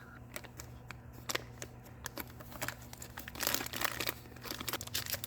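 Plastic accessory bag for a Monstrum Challenger 3-18x50 HPVO scope crinkles and rustles as it is handled during unboxing, with soft close crumpling and scattered sharp crackles, louder near the end, over a steady low hum.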